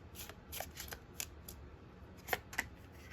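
Tarot cards shuffled and drawn by hand, a run of quiet riffling flicks and soft slaps, with two sharper snaps near the end.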